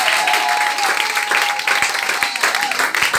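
A church congregation claps and cheers to acclaim Jesus, steady dense applause with voices mixed in and a sustained tone running underneath, loud and close throughout.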